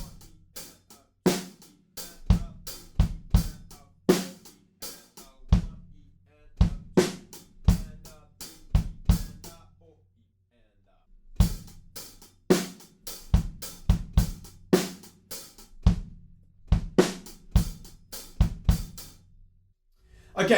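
Drum kit groove played over two bars, with sharp kick and snare hits in a steady pattern and sparser hi-hats in the second bar, close and loud with no talk.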